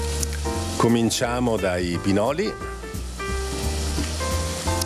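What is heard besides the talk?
onion sizzling in a pan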